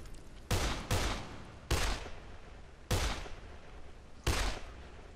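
Gunfire rings out while zombies are shot in the Dead Island video game: five separate sharp shots at uneven intervals, each a sudden loud crack with a short decaying tail over a low game background.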